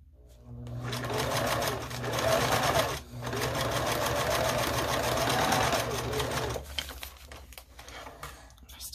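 A sewing machine stitches a string quilt, running in a loud, steady, close whir for several seconds with a brief stop and a restart before it trails off.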